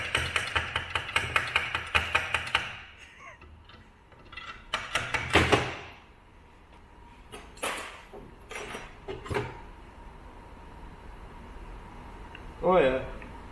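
Metal-on-metal hammer blows ring out as a jammed piston is driven out of a blown turbocharged Honda CBR motorcycle engine, starting as a steady run of rapid strikes, then coming as scattered heavy knocks with a voice talking in between.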